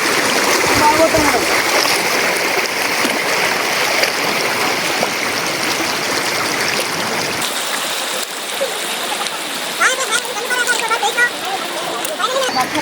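A fast-flowing stream rushes loud and close in a steady roar, with splashing, broadband turbulence running throughout. People talk now and then over the water.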